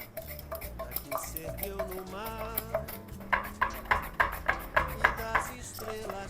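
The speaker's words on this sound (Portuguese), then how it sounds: "Cortei minha cenoura em rodelas usando a mandolina" Carrot sliced into rounds on a mandoline, its blade strokes landing as a steady run of crisp, evenly spaced clicks that grow louder in the second half, over a background of music.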